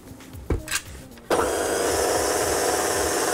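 A stand mixer starts kneading brioche dough at low speed. A couple of knocks come first, then the motor kicks in with a loud, steady whirring drone that runs to the end.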